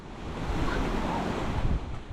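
East Sea waves washing beside a coastal walking path along a seaside road in Korea, a steady surging wash of surf mixed with wind buffeting the microphone, with no voices.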